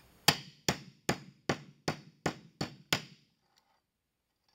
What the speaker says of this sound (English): and hammer the hinge closed.